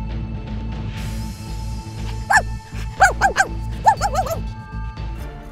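A dog gives a few sharp barks over a loud, steady low hum, close by, in short bursts of two or three.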